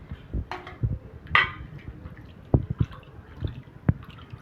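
Half a kilogram of raw mutton washed by hand in water: scattered wet drips, splashes and squishy handling noises, close and irregular, with no talk.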